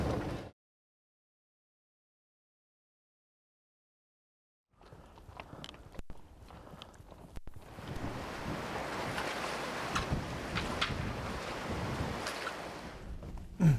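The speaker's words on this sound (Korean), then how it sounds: "바람 실화임?" Strong wind blows across the mic on a fishing boat at sea off Hwangdeokdo during a lure-fishing trip, a steady loud broadband roar with gusts and buffeting that starts after a brief burst and a few seconds of silence.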